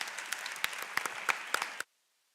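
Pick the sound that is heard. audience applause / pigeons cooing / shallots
audience applause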